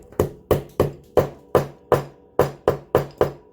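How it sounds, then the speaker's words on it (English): Hammer blows crimping a terminal onto a ribbon cable, about ten sharp, close knocks struck at a steady, slightly uneven pace with no talking. "There are tools for doing this the right way that I don't have, so I just like to use a hammer"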